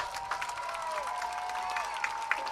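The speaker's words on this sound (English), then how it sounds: "Let's give them one more round of applause." A round of applause for football players at a team introduction event, moderate clapping with a few cheers under a steady tonal hum.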